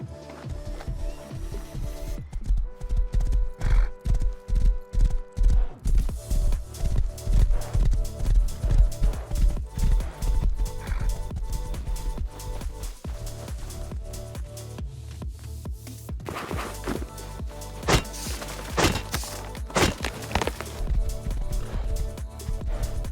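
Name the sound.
horse riding in Rust video game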